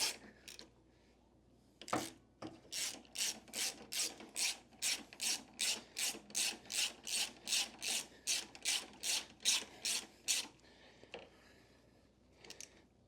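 An Allen wrench turns a kickstand bolt on a Harley M8 Softail motorcycle: about twenty quick rasping ratchet-like strokes in a steady rhythm, close and crisp, with brief pauses at the start and end.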